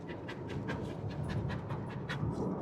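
An energetic dog on a road trip pants rapidly and steadily at close range, a continuous rhythmic huffing that carries on without a break and with no voices over it.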